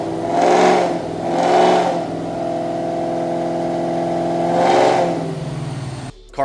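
A 2003 SVT Cobra V8 revs on a dyno under load: three loud, rising throttle surges with a sustained engine drone between them, then an abrupt cut near the end.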